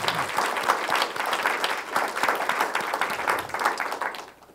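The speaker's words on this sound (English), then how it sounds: "let's have a big round of applause for our sponsors" Conference audience at a programming-language event in Seattle claps for the sponsors, a sustained patter of many hands at moderate volume that tapers off toward the end.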